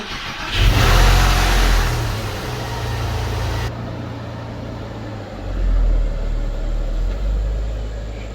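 A cheap Porsche's engine revs and the car pulls away for a test drive, a loud close surge of engine noise with wind rush that eases and then rises again.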